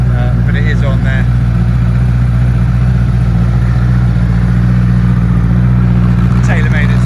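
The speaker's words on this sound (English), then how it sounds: "Tailor-made exhaust sounds absolutely lovely." A 2009 Honda CBR 1000 RR Fireblade motorcycle with a tailor-made exhaust idles steadily close by, its deep, even engine rumble running unbroken throughout, with brief voices heard faintly near the start and the end.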